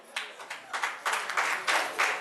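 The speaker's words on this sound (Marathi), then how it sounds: "जोरदार टाळ्या वल्लभसाठी" A small group at a traditional engagement ceremony claps in short, uneven bursts of applause, close by and moderately loud, with no talk.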